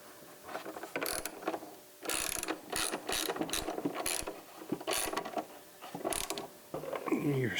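A ratchet with a T45 Torx bit turns a bolt on a Harley-Davidson M8 Softail Low Rider S/ST extended rear fender, giving close, loud bursts of rapid clicking with short pauses between strokes.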